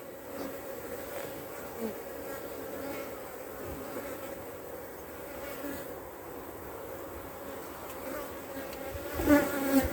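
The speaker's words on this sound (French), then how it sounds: "Donc on enlève les abeilles, comme ça on les voit mieux." Honey bees buzzing on a hive frame during queen-cell work, a steady close swarm hum that stays even throughout, with a few louder rustles near the end.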